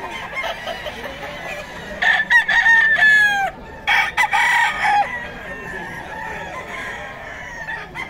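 A Boston White gamefowl rooster crows at a roadside market, two loud close crows in quick succession, each with a bright drawn-out tail, against steady background chatter and bustle.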